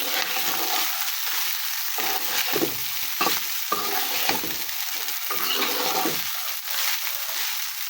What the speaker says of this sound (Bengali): নেড়ে চেড়ে নেব।